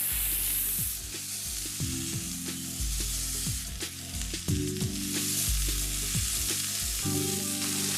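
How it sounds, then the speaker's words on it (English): Mushrooms sizzling on a grill, a steady frying hiss with scattered pops and tonal crackles throughout, loud and close with no talking. "we're just gonna put the mushroom on the grill"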